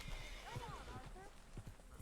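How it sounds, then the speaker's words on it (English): Horse hooves clip-clop in the Red Dead Redemption 2 video game, with a short whinny rising over steady game ambience and someone talking throughout. "Agitated horses need to be calm before you can approach them."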